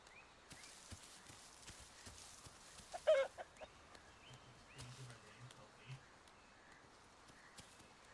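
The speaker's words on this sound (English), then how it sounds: "That is a chicken." Chicken in the video game The Isle, a brief clucking call under quiet ambient game sound with light footsteps and soft thuds, with faint talk in the background.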